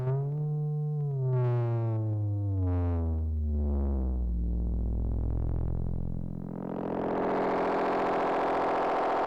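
An unstable droning modular synth tone with thick harmonics that slide and bend downward, then swell into a wide, noisy, brighter wash near the end, loud and continuous with no voices.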